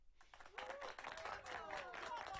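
Small group gives a playful crowd cheer, a short burst of clapping with whoops and a voice or two calling out, close and lively, building quickly and staying busy to the end.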